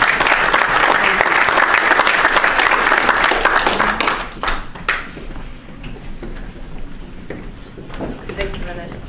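Audience applause at an academic education policy seminar, dense and loud for about four seconds, then thinning to scattered claps and fading over the rest.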